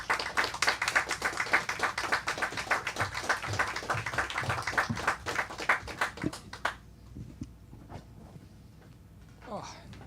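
Audience applause greeting speakers at a talk event, a dense roll of clapping from many hands that fades out after several seconds, with a few scattered claps and a voice at the end.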